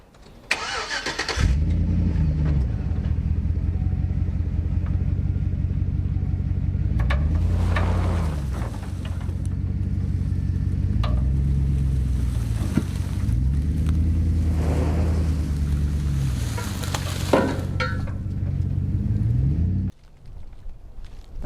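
A vehicle's engine revs and idles at close range while pulling a 1972 Chevrolet C10 truck out of a barn, rising and falling in repeated pulls before cutting off abruptly near the end.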